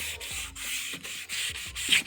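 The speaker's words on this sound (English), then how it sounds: "So you make sure that the sanding is perfectly done" Steady back-and-forth sanding on a headlight lens, a gritty rasp repeating in quick, even strokes, close up with no voices.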